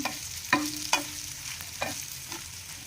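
Stuffed okra being stirred gently in masala in a pan brings soft frying hiss and a few distinct metallic scrapes and knocks of a spatula, close and unhurried, with no voices.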